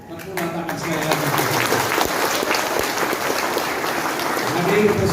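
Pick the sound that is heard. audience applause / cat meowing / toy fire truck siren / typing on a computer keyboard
audience applause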